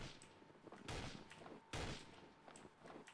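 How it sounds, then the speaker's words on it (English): Gunfire in the game Trouble in Terrorist Town comes as two sharp, loud shots about a second apart, each with a short rumbling tail, followed by a fainter crack, over quiet background. "That was Jensen shooting you."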